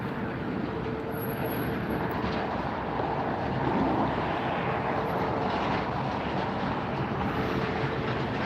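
A Kalitta Air Boeing 747 freighter, just arrived from Anchorage, rumbles steadily at LAX at night, a broad continuous roar holding even through the whole stretch with no talk over it.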